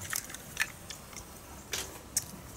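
Boiled snails are chewed up close outdoors beside a rice field, giving soft, wet bites and squishy crunches spaced irregularly over a low background hum.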